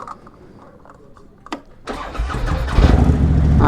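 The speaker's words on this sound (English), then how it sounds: "Motor pumping." A motorcycle engine cranks with a click, then catches and settles into a loud, close, rumbling idle that grows stronger as it warms.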